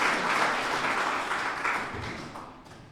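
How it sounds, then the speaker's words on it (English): Warm applause from the audience at the World Leaders Summit, many hands clapping together, loudest at first and then slowly fading over a few seconds. "So please join me in giving him a huge hand of applause."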